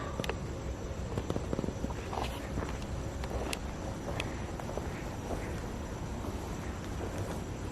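Footsteps crunching on gravel at an eerie, quiet night location, heard as a scatter of faint irregular crunches and taps over a steady noisy background, with no voices present.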